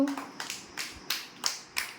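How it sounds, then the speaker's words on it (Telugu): A group of young children at an anganwadi claps for a classmate with a quick, slightly uneven run of about six sharp claps over two seconds, close and moderately loud. "క్లాప్స్ కొట్టండి దేవాకి అందరూ"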